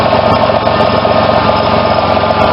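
A 1988 GMC truck engine idles loud and close, a steady, even drone with a fine mechanical buzz and no voices.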